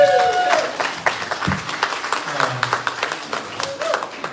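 An audience at a holiday reception and donor advisory board installation applauding for Jeff Crane, a crowd of hands clapping steadily throughout while a voice speaks over the start.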